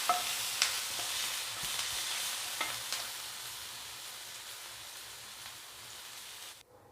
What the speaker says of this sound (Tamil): ஸோ இப்போ இதை கொஞ்சம் நல்லா எண்ணெயில் வதங்கட்டும்